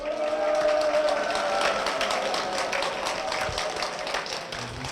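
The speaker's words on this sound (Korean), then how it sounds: "박수로 모시겠습니다." A church congregation claps in welcome, with a dense, fairly even wash of applause and a tone or voice running underneath.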